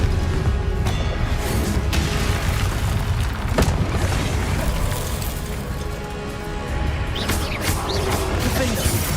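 A Confringo fire spell detonates in Hogwarts Legacy: a steady roar of booming explosions and crashing impacts runs throughout, loud and dense, as a player shouts a string of spell names.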